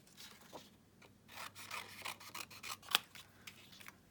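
Scissors snip through paper to cut out flower shapes, a run of close, quiet crisp cuts and rustles with one sharper snip near the end.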